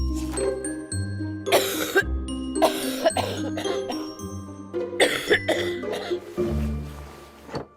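Wet, phlegmy coughing in a Vaporex cold remedy TV advert: several loud, chesty coughs in short bursts over a sustained musical backing with chime-like tones.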